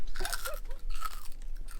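Crunchy crackling being bitten and chewed close by during a meal, a series of sharp crisp crunches over about two seconds.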